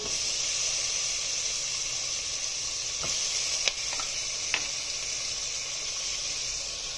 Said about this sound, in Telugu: బటర్ కడిగాక దీనిలో మనం ముందుగా కట్ చేసుకున్న ఉల్లిపాయ ముక్కలు, టమాటా ముక్కలు